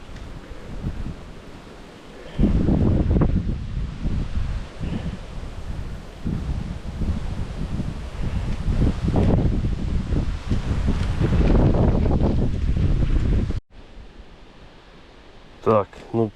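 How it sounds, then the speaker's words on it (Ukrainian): Strong gusting wind buffets the microphone at a wild lake while fishing in the Sumy region, a loud roaring rumble that rises and falls in bursts, then drops abruptly near the end. "вітрюган жахливий"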